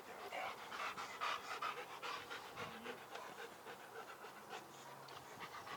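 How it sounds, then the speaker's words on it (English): A dog pants rapidly and steadily, close by, with a faint low hum underneath. "this is a dog"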